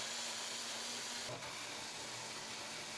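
A Magic Bullet blender running at full power while blending a breakfast smoothie, a faint continuous motor whir and hiss holding steady throughout with a slight shift partway through.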